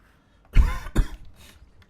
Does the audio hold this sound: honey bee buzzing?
no